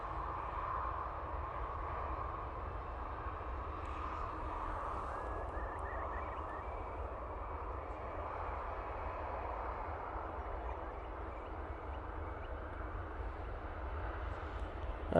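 EasyJet airliner beginning its takeoff roll at Manchester Airport, a faint, steady distant engine roar that holds level throughout with no voices.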